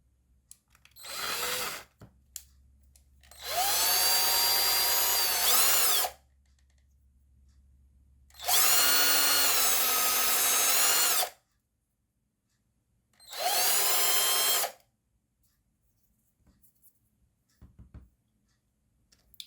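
A small power drill whirs in four separate bursts drilling holes in polymer clay pieces, the first brief and the others several seconds long, with quiet pauses and faint handling noises between.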